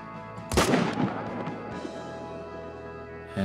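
A single loud hunting rifle shot in theHunter: Call of the Wild, aimed at a cow about 185 yards out in Cape Buffalo country, cracks sharply and then rolls into a long fading echo.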